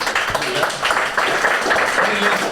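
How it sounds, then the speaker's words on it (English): A live football podcast audience gives a round of applause, with steady crowd clapping throughout and talk mixed in. "And a bit of a round of applause."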